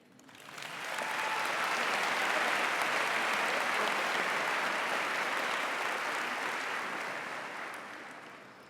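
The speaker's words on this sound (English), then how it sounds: "Let's give our class of 2016 one big round of applause." Graduation ceremony audience gives a sustained round of applause that swells in quickly, holds as a broad, even wash of clapping for several seconds, then tapers off at the end.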